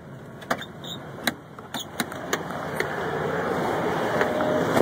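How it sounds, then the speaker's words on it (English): Cars pass along a road beside a parking lot, a steady rising wash of traffic noise with several sharp transient clicks and thumps near the microphone, no talking. "Gotta wait for this band of cars to get by me so I can get out."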